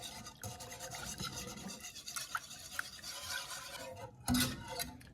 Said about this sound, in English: Let me get me a whisk so I can whisk together these eggs.